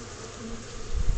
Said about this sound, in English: Dadgum, these bees are swarming.